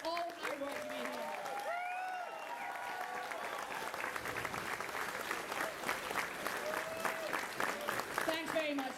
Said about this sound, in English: can you guys give a big round of applause for anybody who's turned up today in cosplay